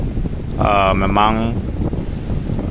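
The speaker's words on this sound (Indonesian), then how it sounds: "tiupan angin itu hampir tidak berhenti ya, terutama terasa sekali apabila kita berada di kawasan pantai" Strong wind at a beach blows steadily against the microphone in a low rumbling rush, while a person speaks briefly over it near the start.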